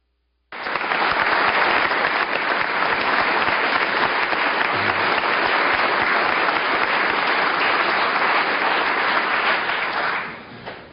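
State senators in the Georgia State Senate chamber give a sustained round of applause for the state's adjutant general on National Guard Day, a thick, steady clapping that starts abruptly and tapers off near the end.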